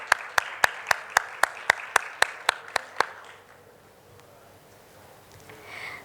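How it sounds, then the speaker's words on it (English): At a reproductive health conference, a single person claps a dozen sharp, evenly spaced times close by, then stops, leaving quiet room tone with faint murmuring at the end. "A huge round of applause for her,"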